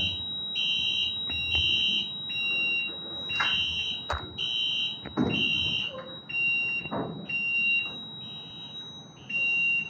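A Siemens fire alarm sounder blares in repeated high-pitched bursts, loud and insistent, over a busy background of rumbling room noise and clatter.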